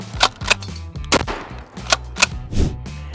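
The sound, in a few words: shotgun gunshot sound effect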